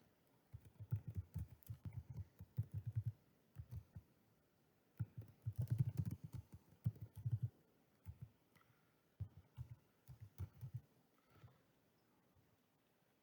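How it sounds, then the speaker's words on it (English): Quiet clicking of keys on a computer keyboard in bursts of rapid typing with short pauses, close but soft, with no voices. "Can you believe what I'm typing?"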